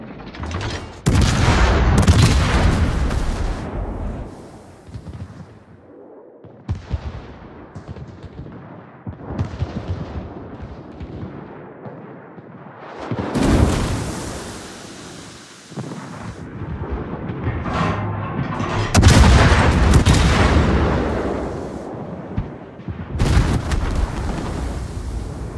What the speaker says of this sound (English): Concentrate fire on the designated target. Fire!